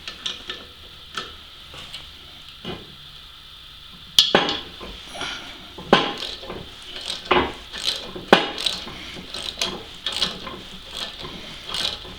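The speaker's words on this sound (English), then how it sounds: "give them a couple good whacks with a hammer" A series of sharp metallic hammer strikes on exhaust studs, irregular and close, ringing briefly over a quiet mechanical background, with no voices.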